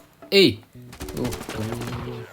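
A single sharp Desert Eagle pistol shot in a video game cracks out loudly near the start, followed by voices talking.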